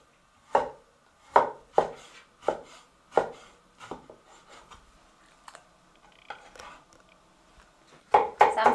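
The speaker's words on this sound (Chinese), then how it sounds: "我们再来切点肉片，肉要选这种肥一点的肉" A kitchen knife chops through fatty pork on a cutting board into large slices, with sharp distinct knocks spaced irregularly, a pause in the middle, and a quick cluster of cuts at the end.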